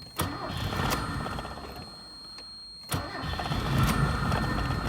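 A Mercury Capri car with a blown 80-amp fuse cranks in short bursts, then its engine catches and starts, settling into a rough, uneven idle nearby.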